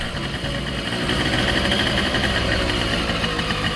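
A Tomos moped engine runs close by, a steady buzzing putter at idle with slight variation, loud and alone without talk.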